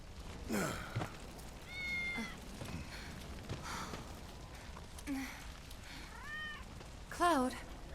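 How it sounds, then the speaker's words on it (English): Cats meow in Final Fantasy VII Intergrade, with several distinct, fairly close mews scattered across the stretch over a quiet game background and some soft sighing voice sounds. "These cats are so adorable."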